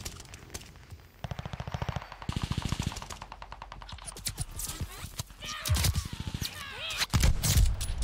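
Video game gunfire: rapid machine-gun bursts and single shots, loud and close, followed by heavier explosive blasts near the end, with game voices and a player talking in the mix.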